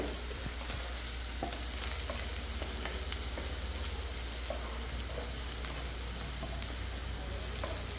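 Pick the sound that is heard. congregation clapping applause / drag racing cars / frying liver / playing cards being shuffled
frying liver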